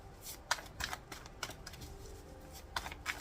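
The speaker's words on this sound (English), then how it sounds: "Let me shuffle." Tarot cards shuffled by hand in a quiet room, with several crisp, separate riffling bursts spread irregularly across the stretch, each close and moderately soft.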